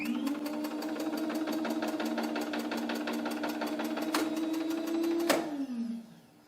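A spring-charging motor on a medium voltage circuit breaker whirs steadily with a fast mechanical pulsing for about five seconds, then stops with a sharp clack and winds down to silence.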